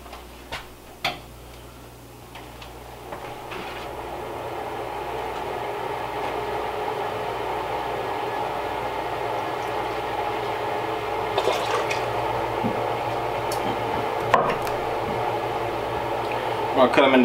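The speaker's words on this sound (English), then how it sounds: "This is gonna get a little bit loud because I have to have the vent on for this" Kitchen vent fan running loudly during pickle canning, a steady broadband whir holding throughout with a few clinks and knocks of kitchen work on top.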